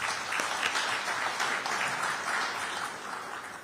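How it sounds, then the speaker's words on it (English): A crowd at a soccer awards ceremony applauds steadily, a dense patter of many hands clapping at moderate distance, with no voices over it. "Let's give them a round of applause for that"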